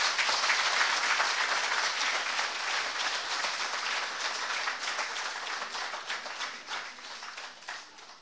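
A concert audience claps steadily for a singer coming on stage at a celebration of 25 years in film music, a dense, sustained applause that gradually thins out toward the end.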